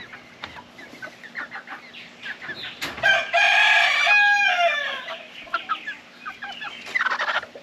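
Backyard chickens raised as meat birds cluck in short, scattered bursts, and a nearby rooster lets out one long, loud crow in the middle before the clucking resumes.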